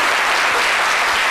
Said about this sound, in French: On applaudit Kedjebara pour son honnêteté.